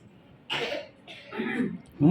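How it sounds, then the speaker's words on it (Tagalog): A child coughs two or three times in short, separate bursts, close by, with a brief vocal sound at the end. "Galing naman niya magtakip pag umuubo."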